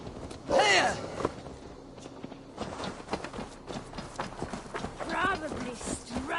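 Horse hooves clip-clop at a walking pace in Assassin's Creed Valhalla, an uneven series of thuds under in-game character dialogue and a faint sigh.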